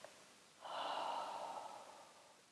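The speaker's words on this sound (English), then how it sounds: "2 short inhales and a sigh." Breathing exercise of two short inhales through the nose followed by a long, soft sighing exhale, close and quiet with no talking.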